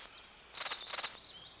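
A cricket in a spring garden chirps in two close, loud bursts of rapid pulsing trills, separated by a short pause against an otherwise quiet background.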